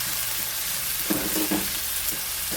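Onions sizzle in hot oil in a pan with a continuous close crackling hiss. A few louder bursts of stirring come near the middle, and no one speaks.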